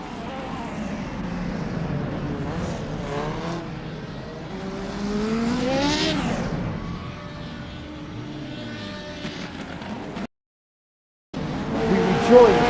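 CART IndyCar race cars from 1985 scream around Mid-Ohio, engines climbing and falling through gear changes as they pass close by, with a brief cut to silence before the roar returns.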